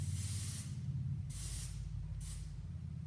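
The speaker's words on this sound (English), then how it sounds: "So we'll just match it by spraying underneath over here." Hairspray hisses in three short bursts as it is sprayed underneath lifted sections of cut hair, each spray a bright airy rush separated by brief pauses over a low steady background hum.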